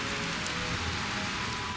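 Heavy monsoon afternoon rain pours down as a dense, steady roar of drops with no pauses and no voices.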